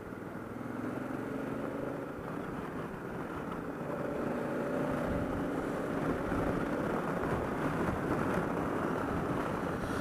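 Engine of a 2016 Honda Africa Twin motorcycle on a test ride, a steady droning hum whose revs climb slowly, heard under heavy wind rush with no talk.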